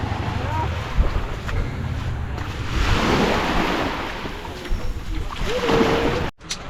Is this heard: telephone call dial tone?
no